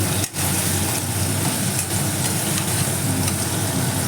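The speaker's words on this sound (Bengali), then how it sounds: "এবার আমি আলুগুলো সুন্দর করে ভেজে নিচ্ছি" Potatoes fry in hot oil in a pan for a potato and pointed gourd curry with scrambled egg, giving a steady, loud, dense sizzle that runs unbroken throughout with no talking.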